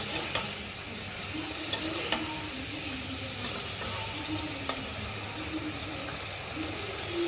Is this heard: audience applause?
no